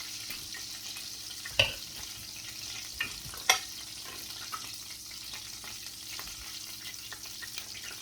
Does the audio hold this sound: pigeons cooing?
no